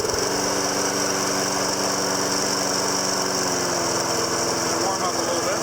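Snapper Big Six Ninja self-propelled lawn mower warming up with its small engine running steadily, a loud, close, continuous buzzing drone, with a person speaking briefly beneath it.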